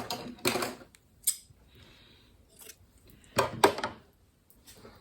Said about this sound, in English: just wiggle the flywheel, which is the wheel on the right hand side of your sewing machine